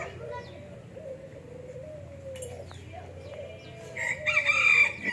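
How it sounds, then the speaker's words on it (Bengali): A rooster crows among chickens of several breeds, including silkies, at the Belna eco resort in Bangladesh; a long, wavering crow sounds over soft cooing, and sharper calls rise near the end. "এখানে কিছু মুরগি রয়েছে, বিভিন্ন প্রজাতির মুরগি"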